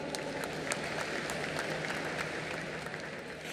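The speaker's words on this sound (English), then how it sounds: "A huge round of applause for Nadav Lapid" A hall audience applauds steadily throughout the closing ceremony of the 53rd International Film Festival of India, honouring a filmmaker. The clapping blends into a fairly quiet, distant wash of crowd noise.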